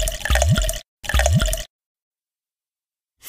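Water poured from containers into a bathtub in a Peg + Cat bubble bath game, two short splashing pours with drips, separated by a pause and followed by silence.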